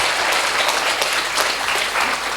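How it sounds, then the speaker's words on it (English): Audience at a panel discussion on national security giving a round of applause, loud, dense clapping from many hands, steady and close for the whole stretch. "he deserves a round of applause from your side"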